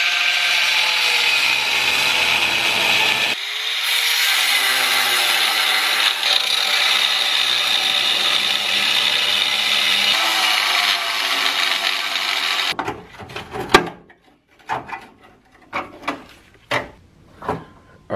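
A power tool cuts through rusted steel on a car's shock tower, giving a loud, sustained, high-pitched grinding whine that shifts in pitch. It then stops and gives way to a series of sharp metallic knocks and clatters.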